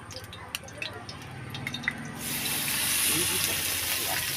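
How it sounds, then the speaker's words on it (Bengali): Prawns go into hot oil in a home kitchen, a few faint clinks and drips giving way to a bright, steady frying hiss that swells and holds close by. "প্রথমে চিংড়ি মাছটা ভাজবে তেলটা গরম হয়ে গেছে দাও চিংড়ি মাছ দিয়ে দাও হালকা গরমে দিয়ে দাও"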